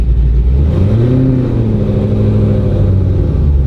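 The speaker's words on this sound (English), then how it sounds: "That's probably the worst startup that you can have." Hennessey Exorcist ZL1, a 1,000 hp modified Camaro, starting up on a hill with a loud, deep, rough engine rumble close by and a rising tone as it catches, filling the whole short stretch.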